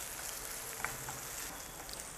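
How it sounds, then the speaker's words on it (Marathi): Onion frying in oil for Maharashtrian phodnicha bhat (tempered rice), a steady soft sizzle with faint crackles and one small pop, fairly quiet and continuous. "कांदा आपला छान फ्राय झालेला आहे"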